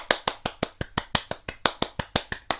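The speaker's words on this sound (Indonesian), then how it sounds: "Beri tepuk tangan buat Tuhan Yesus." Small children in a toddler church class clap in a steady, even rhythm, about fifteen crisp claps at a brisk pace, close and clear with no talking.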